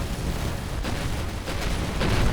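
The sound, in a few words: explosion in the video game Avorion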